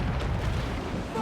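Ship cannons fire in a naval battle from Assassin's Creed IV Black Flag, a dense, continuous rumbling barrage of booms filling the short moment with little letup, heavy and loud throughout.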